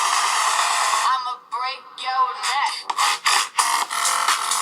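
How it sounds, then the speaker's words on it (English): A cheap $70 Coda laptop plays sound through small, low-power bottom-firing speakers: thin, tinny audio with speech-like bursts and a bright hiss, lacking low end, heard up close. "you can tell that these are low-power speakers that are not moving a lot of air"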